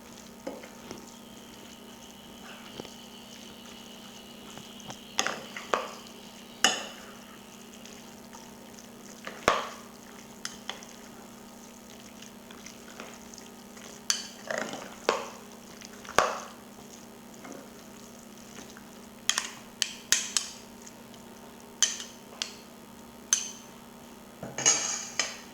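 Ricotta and walnut filling for cannelloni being stirred in a bowl, with a spoon scraping and clinking against the sides in scattered bursts over a low steady hum, close by with no talk.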